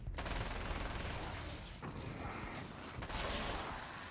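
Rapid, sustained SMG fire in a shooter game, dense bursts of automatic shots rattling almost continuously, with a brief gap near the middle before the firing resumes.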